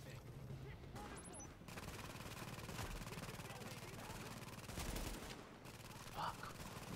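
An automated turret in The Division firing rapid bursts, a sustained clattering stream of gunfire with brief pauses, mixed with other game combat noise and faint talk.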